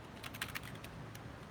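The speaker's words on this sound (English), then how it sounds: "I'm not used to typing at this particular angle" Typing on a laptop keyboard, a quick run of soft, close key clicks in a short burst followed by a few scattered taps, faint and without any talking.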